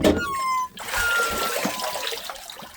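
Water rushes and trickles through a septic tank prefilter during cleaning, a close, steady wet splashing flow that briefly drops out before resuming.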